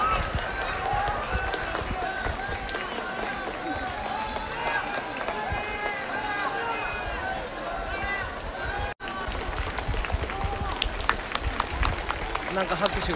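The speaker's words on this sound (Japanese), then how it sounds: "なんか拍手が起こってるけど" Crowd at the Nachi Fire Festival breaks into steady, dense applause mixed with a murmur of voices, continuing throughout with a brief drop partway before resuming.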